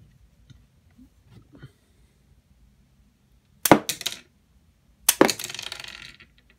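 Star Wars The Last Jedi First Order TIE Fighter 3.75-inch toy launches projectile missiles: two sharp plastic snaps with clattering landings seconds apart, after faint handling taps.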